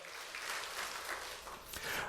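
A church congregation applauds together, a dense wash of hand claps sustained for a couple of seconds at a moderate distance, with no voices standing out.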